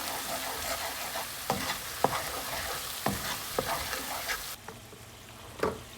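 Spanish paprika, Cajun powder and brown sugar stirred into a sizzling frying pan for a chili garlic butter Cajun sauce: continuous frying hiss with repeated sharp scraping strokes, close up and without voices.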